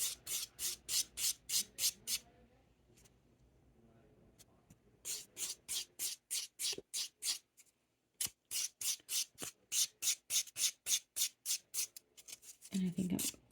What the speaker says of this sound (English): So we are done with the filing.